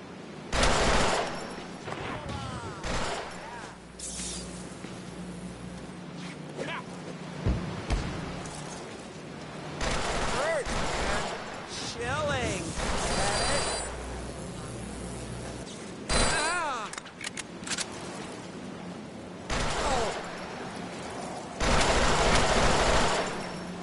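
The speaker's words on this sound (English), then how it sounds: "Now I have a machine gun." Machine gun fire in the Deadpool video game, loud bursts of rapid shots coming in repeated volleys separated by short pauses, with mechanical clatter between them.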